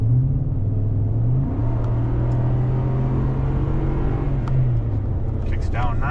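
A 2013 Ford F-150 with a Flowmaster exhaust accelerates from highway cruising around 45 mph. Its steady, deep exhaust drone rises in pitch as it kicks down, then settles, heard from inside the cab with no talk over it.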